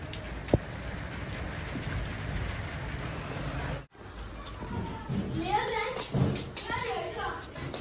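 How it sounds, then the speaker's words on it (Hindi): Heavy rain pours outdoors at high speed, a dense steady hiss of drops on surfaces, with someone talking over it in the second half. "ये देखें गाइस बारिश बहुत तेज़ हो रही है, ये बाहर का लुक है, बहुत स्पीड से जो है ना बारिश आ रही है"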